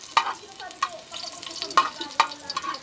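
Garlic sizzles in a frying pan as chicken tinola cooking begins, a soft steady frying hiss broken by a few sharp stirring clicks and scrapes of a utensil against the pan, close and moderately quiet.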